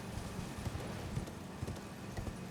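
Horse hooves galloping in the video game Elden Ring, a rapid repeating clip-clop rhythm over a low background, moderately quiet.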